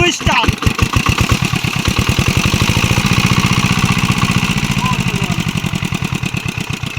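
An engine-driven irrigation water pump on a chili farm chugs loudly and close by, its fast even piston thumping holding a steady idle rhythm throughout.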